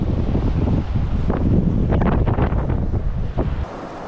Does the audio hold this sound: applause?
no